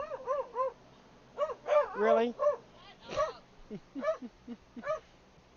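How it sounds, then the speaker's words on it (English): A dog barks repeatedly indoors, a series of short yips and barks in quick clusters, with a brief spoken word in between. "Sorry about the dog barking."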